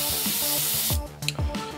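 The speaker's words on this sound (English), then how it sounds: "So let's load up some color. Let's start spraying." Airbrush spraying paint on an Eldar Striking Scorpion miniature: a steady close hiss of spray for about a second, then short bursts with pauses between.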